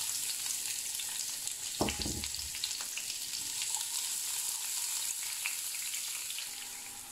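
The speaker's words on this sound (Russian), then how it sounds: "И обжариваем болгарский перец." Bell pepper frying in oil gives a soft, continuous sizzle with one short louder clatter early on, heard close and fairly quiet.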